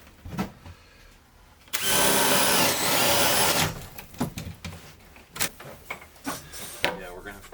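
A power drill bores into the wall of an off-grid cabin, a loud whirring burst lasting about two seconds, surrounded by clattering handling noises and people talking.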